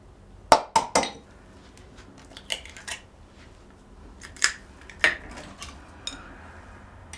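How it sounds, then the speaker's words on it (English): Eggs are cracked into a mixing bowl of oat and raisin cookie batter, a few sharp clicks and knocks spaced out one at a time, close and fairly quiet with no talking. "I've got 2 eggs and I'm just going to break those and put one in at a time."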